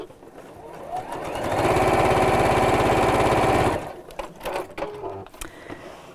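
A domestic sewing machine stitches around the seams of a drawstring pouch with appliqué, a steady close mechanical whir with rapid needle rhythm running for about two seconds before stopping, followed by faint handling clicks.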